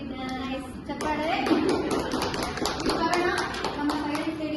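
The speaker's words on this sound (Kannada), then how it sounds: "Very nice. ಚಪ್ಪಾಳೆ." Clapping by a small group at a Mahila Utsava women's festival gathering, a patter of hand claps building and continuing under background chatter and voices.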